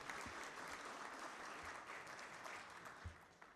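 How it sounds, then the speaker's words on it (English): An audience at the annual meeting of a council of traditional leaders applauds a cultural performance with a steady, even wash of clapping. The sound is faint and distant, with a few sharper claps standing out. "please give them another round of applause"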